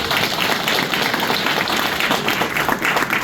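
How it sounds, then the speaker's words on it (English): A crowd applauds steadily for several seconds, dense clapping filling the space loud and close with no pauses. "I would like you guys to clap for yourself."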